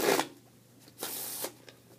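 A Bicycle Black Rider playing card deck is shuffled close up, two short riffling bursts of paper cards separated by a brief pause.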